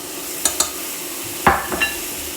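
Deglazed chicken jus with white wine is stirred in a pan: a handful of short utensil scrapes and light clinks against the metal over a soft background hiss, with no talking.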